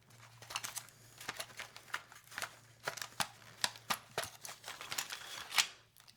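A whiteout correction tape dispenser is handled up close, giving soft, irregular clicks and scrapes in quick succession with small rustles between them, quiet and without talk.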